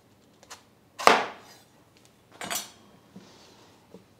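A kitchen knife slicing a trimmed zucchini in half on a board, with two sharp cutting strikes and a few lighter taps and clicks around them, close and clear with no talk.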